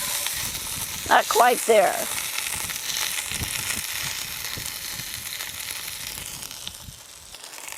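Prime rib browning in a Dutch oven, a continuous close sizzle and frying hiss, with a brief voice heard near the start over the sizzling.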